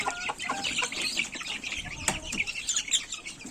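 Chickens and young chicks cluck and peep together in a lively coop, with a brief flutter of wings and steady overlapping calls close by throughout.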